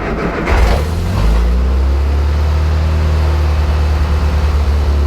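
A Classic Mini engine cranks and catches, then settles into a steady, close idle with a deep, even drone that holds throughout.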